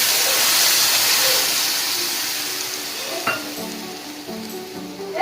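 Ground spice paste dropped into hot oil in a pan, a loud burst of close sizzling and hissing that gradually settles, followed by a few sharp clinks and scrapes of stirring.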